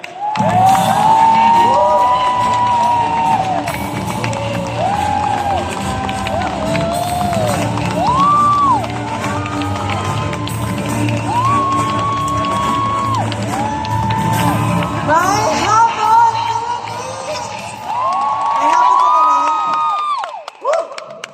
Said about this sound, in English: Let's give a round of applause to Team Supreme Pegasus 7, Faith and...